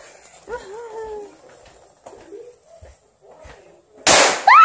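A firecracker stuffed inside a hot dog bursts in a sudden loud crack near the end, after a stretch of quiet with a dog whimpering and faint background sounds.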